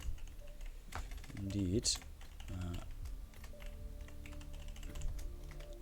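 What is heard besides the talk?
typing on a computer keyboard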